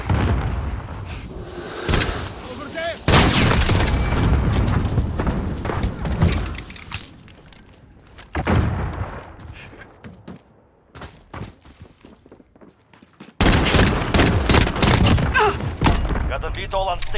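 Bursts of military video game gunfire and heavy thuds, loud and close, come in dense rapid volleys with a lull in the middle, and a voice is heard talking in between.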